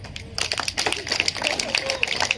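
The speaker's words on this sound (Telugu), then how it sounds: "చప్పట్లు ఆపద్దు" A short burst of crowd applause, many hands clapping together at moderate loudness, with a voice talking over it.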